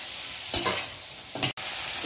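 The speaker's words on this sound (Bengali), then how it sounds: "এটা ভালো করে নাড়াচাড়া করে নিচ্ছি" A spoon stirs cabbage, carrot and salt in a pot for chicken vegetable soup, two short scraping strokes against the metal over a soft background sizzle.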